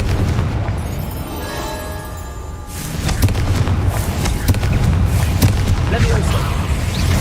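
Confringo fire spell blast in a Hogwarts video game, a loud booming burst that swells into a sustained rumbling roar with scattered crackles.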